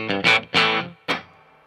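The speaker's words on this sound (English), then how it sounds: "now we'll switch over to our bridge position, which should be pretty hot sounding." Electric guitar, a 2020 Fender Eric Johnson Stratocaster on its bridge pickup, plays a few short, bright, twangy notes, strummed alone with clear gaps between them.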